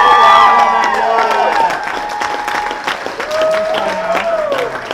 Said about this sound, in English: Come on, let's give another celebratory applause